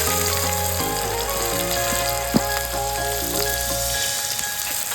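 Chopped onions fry in hot oil for a chicken curry, giving a loud, continuous close sizzle with no talk over it.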